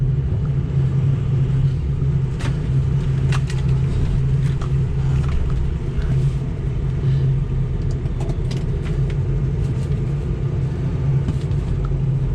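A 2003 Ford F250 diesel 4x4 Lariat idles with a steady low rumble, parked in warm weather in Tucson while being shifted into four-wheel-drive low range, with a few faint clicks over the engine.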